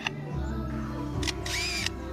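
A wild bird imitates a camera shutter, giving two quick, crisp click bursts over a quiet, steady outdoor background.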